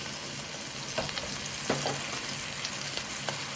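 Tilapia fillets pan-searing in a hot pan give a steady, close sizzle with scattered crackles and pops throughout, with no talking.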